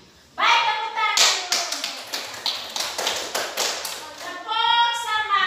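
Schoolchildren in a classroom clapping hands together in a steady, rhythmic run of sharp claps, with young voices chanting before and after.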